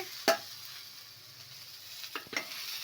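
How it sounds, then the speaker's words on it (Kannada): Okra stir-fried in a pan with coriander powder, salt and chopped coriander leaves, a soft steady sizzle with a few sharp spatula scrapes, one near the start and a couple near the end. "ಎಲ್ಲವನ್ನು ಹಾಕಿ ಈ ಥರ ಒಂದ್ಸಲ ಫ್ರೈ ಮಾಡ್ಕೊಬೇಕು"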